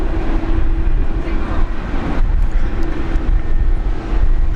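An Air Niugini Boeing 767 at Brisbane Airport, a loud, steady jet engine roar with a low rumbling hum that persists throughout, heard outdoors from a spotting position.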